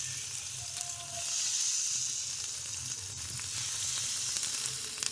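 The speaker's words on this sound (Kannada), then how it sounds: "ಇವಾಗ ಒಂದೊಂದಾಗೆ ಈ ಸ್ಟಿಕ್ಸ್ಗಳನ್ನ ಇಡೋಣ. ಲೋ ಫ್ಲೇಮಲ್ಲಿ ಇಟ್ಟು ಫಸ್ಟ್ ಇಟ್ಬಿಡ್ತೀನಿ." Paneer tikka sticks sizzling on a tawa over a low flame: a soft, steady frying hiss that swells slightly partway through, quiet and close, with no talk.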